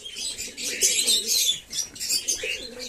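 Pigeons at a morning feeding produce a close, busy mix of wing flapping and soft rustling bursts, with low murmuring coos beneath, and no talk.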